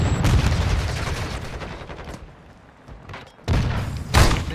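Gunfire in a first-person shooter video game, heard as a string of sharp bursts and thuds with brief lulls between them and a final loud crack, and no talking.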